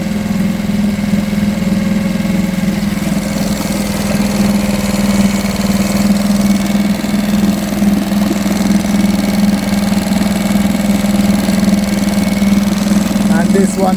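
A homemade draw-start boat engine runs at a steady, even idle with a low droning hum and faint vibration, close by, while people talk over it.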